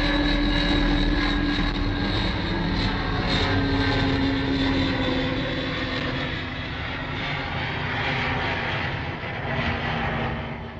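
A British air ferry propeller airliner that carries cars cross-Channel, heard as a steady, loud engine drone with a constant propeller hum that holds for the full stretch without pause.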